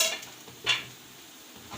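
A spoon stirs ginger and garlic powder into a pot for chicken biryani, with a few close metallic clinks and scrapes against the pot over a faint sizzle.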